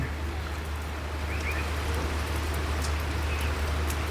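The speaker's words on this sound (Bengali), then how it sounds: "আপনারা ব্যাকগ্রাউন্ডে বৃষ্টির আওয়াজ পাচ্ছেন বৃষ্টি হচ্ছে" Rain falls steadily on a rooftop garden as an even, close hiss of drops, with a low constant hum beneath and no voices.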